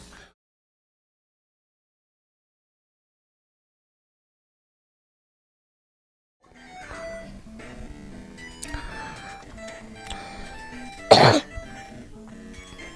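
A sharp, loud cough bursts out once over a busy background of clattering and murmur, after several seconds of silence.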